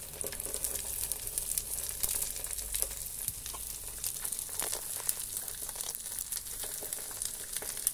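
Cooked rice sizzles and crackles as it heats on a salted griddle, a steady close frying hiss with light stirring scrapes and no talking.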